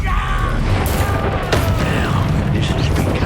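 Confringo spell explosions in the Hogwarts Legacy video game erupt as a loud, rumbling battle din, with a sharp crack near the middle and another burst later over a constant low boom.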